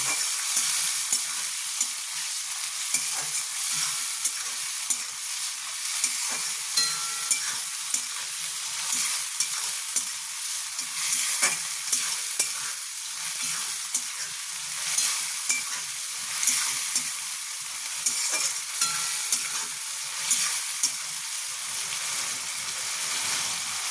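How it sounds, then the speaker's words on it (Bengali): Prawns frying in a pan in hot oil, a continuous bright sizzle with periodic stirring scrapes throughout, loud and close with no talk. "চিংড়ি মাছটাকে একটু ভালো করে ভেজে নেব।"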